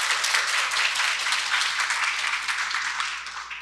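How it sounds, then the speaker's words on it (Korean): Audience at a literary festival event in Seoul applauding to welcome two authors, a dense, sustained round of clapping from a full hall that tapers slightly toward the end. "박수로 맞이해 주십시오"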